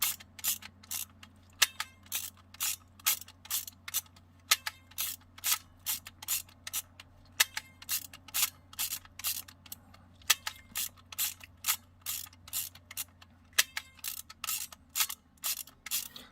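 A Miranda FG-Z 35mm SLR film camera being wound and fired over and over to use up a 24-exposure roll: steady repeated ratcheting lever strokes and crisp shutter clicks in a regular rhythm, close and clear, without speech.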